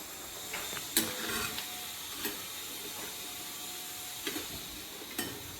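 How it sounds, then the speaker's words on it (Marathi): Colocasia leaf rolls (alu vadi) deep-frying in hot oil give off a steady bubbling sizzle, with a few sharp clinks of a utensil against the pan scattered over it. "आपल्याला सर्वच अशा तळून घ्यायच्या आहेत।"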